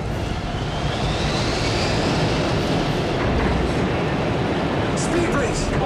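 Airliner's reverse thrusters engaged during a landing rollout in an action film, a dense, continuous roar of engine noise and rushing air, loud and close, with a faint rising whine in the background.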